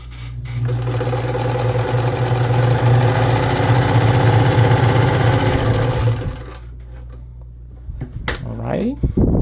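A Domestic Imperial Automatic Gritzner VZ sewing machine runs a wide zigzag stitch, a loud, steady, even mechanical whir lasting about six seconds before stopping, followed by a few handling clicks and rustles.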